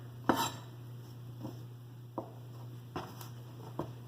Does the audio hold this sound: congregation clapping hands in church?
no